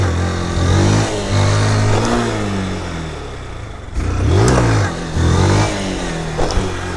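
A 2023 Honda Fan 160 motorcycle engine revving hard during a wheelie, loud and close, rising and falling through repeated throttle surges with a brief dip before pulling again.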